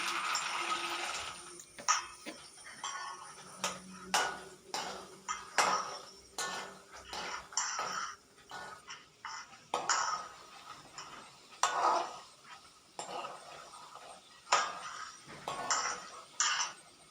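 A metal spoon stirs and scrapes chickpeas frying in a pan for Kerala mixture, giving irregular clinks and clatters against the pan and a faint sizzle underneath, with no talking.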